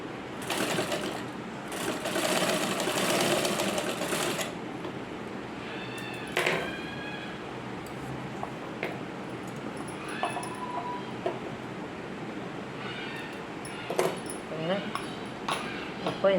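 A sewing machine stitches the back neck of a blouse in one loud, sustained run of about four seconds, followed by quieter clinks and small handling noises.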